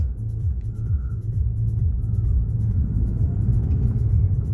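Steady low engine rumble and road drone inside a moving Kia Morning (Picanto), continuous and fairly loud, with no talking.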